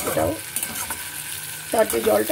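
Onion and tomato frying with mustard for a Bengali fish curry, a steady close sizzle under rhythmic stirring with a spatula, with louder scraping bursts at the start and end.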